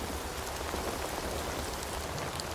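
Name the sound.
heavy rain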